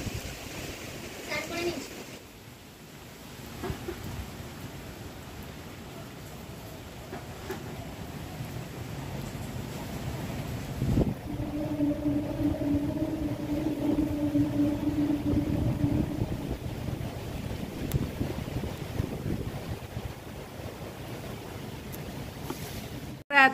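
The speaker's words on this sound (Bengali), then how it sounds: "কিন্তু হাওয়ার দাপটটা খুব বেশি।" Strong storm wind gusts outside after heavy rain, a continuous broad roar that swells and ebbs, loudest in the second half, with faint indoor sounds beneath.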